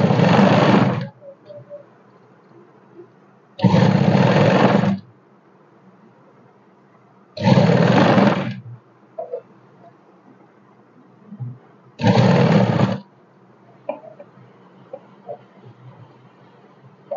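Sewing machine stitching a ladies' suit, running in four loud bursts of about a second each, separated by quieter stretches of cloth handling and small clicks.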